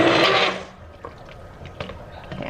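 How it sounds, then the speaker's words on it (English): An immersion blender whirs loudly in a pot of soup for about half a second, then cuts off, leaving only faint clicks and low room noise. "Okay, I'm gonna call that good on the immersion blender."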